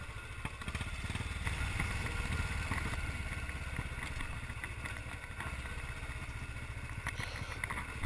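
A motorcycle engine runs after a bump start on a road in India, thrumming steadily with a rattly, clattering texture and fairly far off from the recorder.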